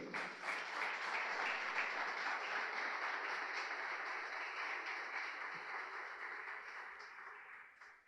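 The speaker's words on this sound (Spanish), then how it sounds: "Denle un fuerte aplauso al Señor Jesucristo." Congregation in a church giving a strong, sustained round of applause, dense clapping filling the room steadily for several seconds and tapering off slightly toward the end, with no talk over it.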